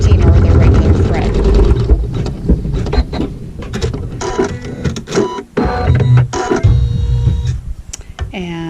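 A sewing machine sews a tack down stitch on quilt fabric with quilting thread, running in fast mechanical bursts with pauses and starts, and close talking can be heard over it.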